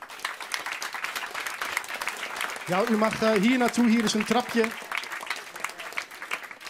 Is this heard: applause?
yes